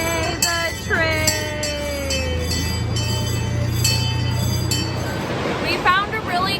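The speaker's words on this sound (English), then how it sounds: "Yay, the train." A train rumbles past at Indiana Beach with high metallic squeals and clanks from the wheels, steady low rumble throughout, while people talk nearby.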